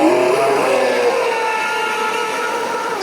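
The motors of a Flowmaster 36 RC boat whine loud and high at full throttle, the pitch sliding steadily as the boat runs past, with no voices.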